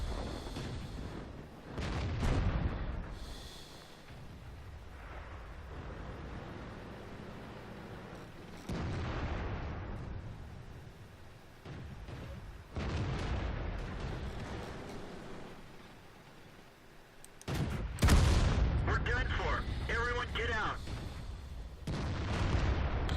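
World of Tanks match with a Renault G1 R tank on the Murovanka map: a series of deep, booming tank cannon shots and impacts spread across the clip, some near and loud, others softer, with rumbling engine noise between.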